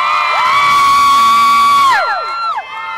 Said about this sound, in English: you have one of the most enthusiastic crowds we have ever seen